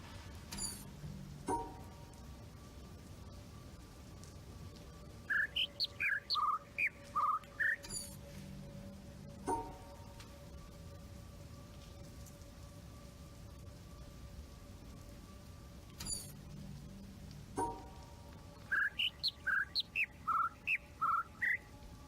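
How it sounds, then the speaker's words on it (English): Birds chirp in the video game The Witness: two separate bursts of quick, bright tweets, each a short run of calls, over a low ambient hum and soft tones. "The main bird that I was hearing was the one that I was supposed to be ignoring."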